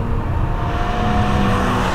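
Steady engine drone from a roughly 270-horsepower BMW M car, a small car rather than a big one, holding a constant low rumble throughout at close range with no talk over it.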